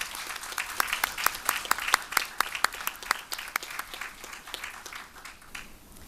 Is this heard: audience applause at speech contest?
yes